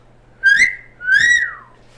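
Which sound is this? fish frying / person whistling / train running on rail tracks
person whistling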